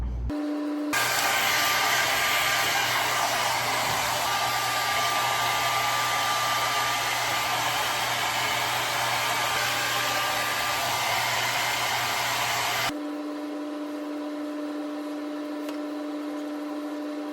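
A hair dryer blows at home to dry hair, a loud, steady roar that starts after a second and runs unbroken for about twelve seconds, then drops to a quieter, even hum.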